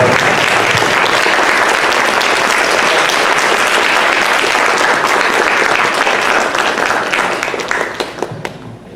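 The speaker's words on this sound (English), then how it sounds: "So give yourselves a round of applause" A large convention audience applauds loudly and steadily, the clapping fading out toward the end.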